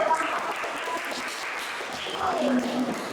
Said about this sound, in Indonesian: Ya, silakan tepuk tangan dulu.